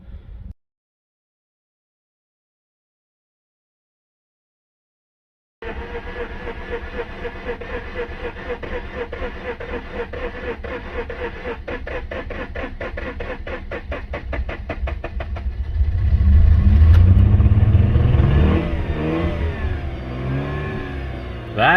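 Project PZ car engine that had stood for over two years cranking to life after a silent gap, settling into a rough, pulsing idle, then revving up loudly before easing back down, close by.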